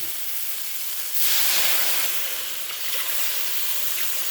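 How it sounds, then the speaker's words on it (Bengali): Water poured into a hot pan of cooking masala, setting off a sudden loud steaming hiss that swells near the start, then settles into a steady simmering hiss. "কষানো হয়ে গেছে, মাপ মতন জল দিয়ে দিচ্ছি।"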